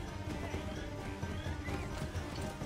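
A horse in Assassin's Creed III gallops and whinnies amid a dense, steady wash of game sound, the hoofbeats and neigh blended into the mix at moderate level.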